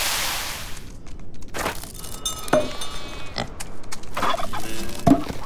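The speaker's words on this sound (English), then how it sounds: "Our bird area is just becoming insane. We have so many birds." Turkeys and other farm birds gobbling and calling in the Farm Together video game, a few short calls scattered over soft ambient background, with no talking.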